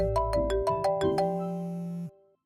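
A mobile phone ringtone plays a quick run of bright melodic notes, then holds a sustained tone before stopping abruptly, clear and close with no talking.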